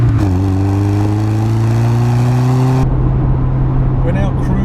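A Honda Integra Type R cruising on a road at a steady 70 miles an hour, giving a constant engine drone and road roar that stays loud and even throughout.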